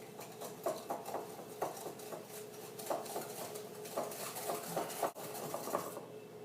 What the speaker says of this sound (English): we're going to whisk this together till it's a nice pale color